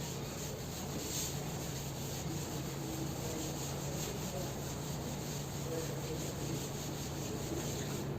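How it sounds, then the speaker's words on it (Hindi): A classroom board being rubbed clean with steady, continuous broadband scrubbing that runs unbroken for several seconds, close and moderately loud, with no talking. "तो इसको एक बार रब कर देते हैं"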